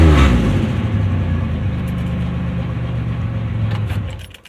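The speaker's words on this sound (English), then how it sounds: "Oh yeah, it jerks into first gear." A Pontiac Grand Am with a swapped 3800 supercharged engine rumbles loudly up close, opening with a heavy thump and a steady engine drone that holds for several seconds before easing off.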